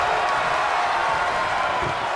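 A dense, loud arena crowd roars and cheers continuously during a WWE 2K23 wrestling match, a steady wall of noise with commentary faintly underneath.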